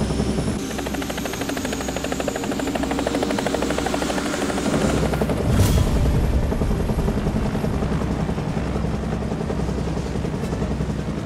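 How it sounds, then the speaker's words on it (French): Helicopter rotor and engine thrumming steadily and loudly up close during boarding, with a dense continuous beat and whine that swells slightly midway. "prenez l'autre hélicoptère!"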